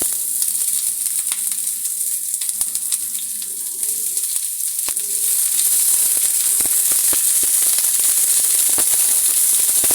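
Chopped onion hitting hot oil in a pan for a mashed eggplant dish, a loud continuous sizzle with crackling pops that grows denser and steadier after a few seconds, with no voices.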